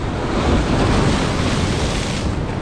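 Sea waves crashing against rocks on a rocky shore during sea bass fishing: a loud, continuous broadband roar of surf mixed with wind buffeting the microphone.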